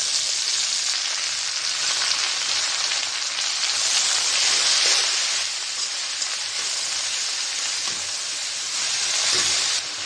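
Water spinach (kalmi greens) hitting hot oil with fried onion, garlic and chili, giving a loud, steady, close hiss and crackle that continues unbroken with no voices.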